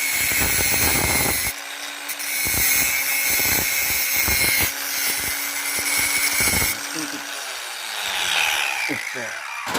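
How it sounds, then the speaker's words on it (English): An angle grinder cutting through a steering tie rod on a Peugeot 404, with harsh grinding bursts broken by brief pauses, close and loud, the motor winding down at the end. "Cut it off, grind it off."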